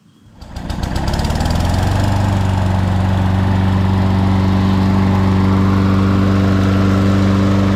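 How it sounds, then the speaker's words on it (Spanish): A lawn mower engine starts up and settles into a loud, steady, throbbing run close by, its low hum holding constant throughout with no voices. "hoy trajimos la máquina de cortar pasto."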